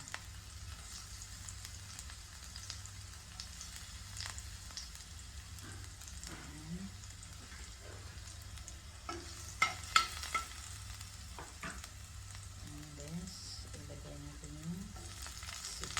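Garlic sizzles in a pan, frying until golden brown as the base for sautéed sardines. The crackle is steady and soft, with an occasional utensil clink, and no voices.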